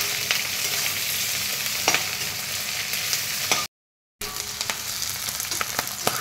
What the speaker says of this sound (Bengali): পেঁয়াজটাও আমার ভালোভাবে বেশ ভাজা হয়ে গেছে